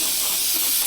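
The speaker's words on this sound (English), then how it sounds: "Just give that a good spray." An aerosol spray cleaner blasts onto rear brake parts of a 2021 Ford F150, a continuous close hiss filling the whole moment with no voices.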